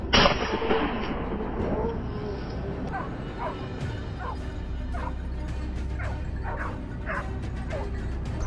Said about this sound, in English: the sound of hunting dogs echoed from the thickets, signaling the prey's location.